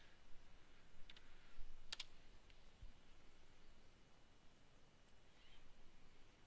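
Keys clicking on a computer keyboard while working in Excel, a few faint isolated taps with a quick double click in the middle, quiet and close with no one talking.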